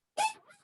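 A dog gives one short, faint bark over a call line, a single clipped yelp lasting well under a second.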